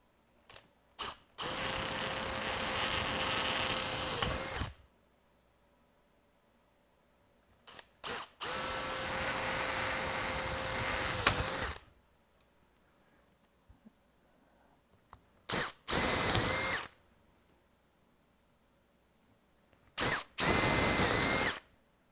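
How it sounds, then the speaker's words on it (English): A power drill bores holes in a clamped polycarbonate part, four loud sustained runs of steady motor whine, each starting and stopping with clicks, close and without talk. "And then let's drill them."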